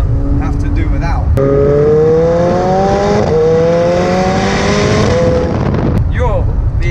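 A McLaren 720S supercar revs hard, its engine and exhaust climbing in a loud rising whine over several seconds before easing off, with voices heard before and after the revs.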